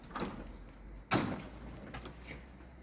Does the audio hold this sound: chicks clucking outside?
no